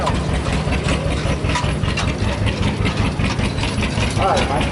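A vintage Porsche Diesel Junior tractor engine runs at idle with a steady, chugging low rumble, heard close and fairly loud throughout, while voices talk over it.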